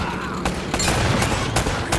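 Gunfire in the video game Uncharted: Drake's Fortune, several sharp shots popping over a dense, loud background of game sound.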